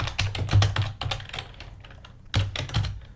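Fingers type on a computer keyboard in slow, uneven bursts of close key clicks, with a short pause in the middle, during game development work; no talking.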